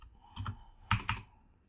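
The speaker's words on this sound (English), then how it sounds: "Sorry, I'm typing sideways." A handful of quiet keystrokes clatter on a computer keyboard in two short bursts, close and soft, with no talking.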